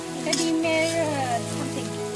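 Potatoes frying in a pan at home, a steady close sizzle running through the clip alongside faint background voices and tonal sounds.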